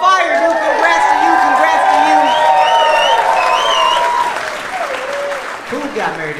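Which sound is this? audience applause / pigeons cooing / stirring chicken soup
audience applause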